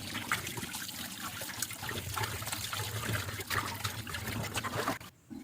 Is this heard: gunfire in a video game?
no